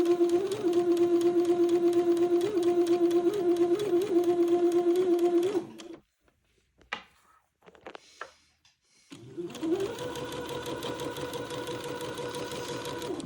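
A sewing machine stitches around the armhole edge of a baby bubble garment in a steady, fast mechanical hum, stops for a few seconds of near silence with faint handling clicks, then starts up again and runs on close and steady.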